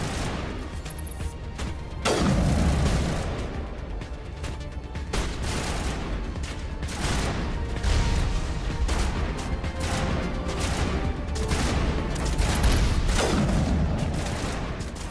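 Enemy gunfire in Mass Effect strikes rock in repeated sharp cracks and booming impacts, irregular shots spaced every second or two against a constant hum of battle ambience.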